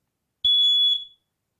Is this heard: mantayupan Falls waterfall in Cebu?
no